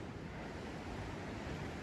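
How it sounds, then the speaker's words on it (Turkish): Continuous roar of the sea echoing inside a cave by the shore, a broad steady rush of surf mixed with wind buffeting, even in level throughout with no talking. "Ve mağaranın içinden de deniz sesi geliyor biliyor musunuz?"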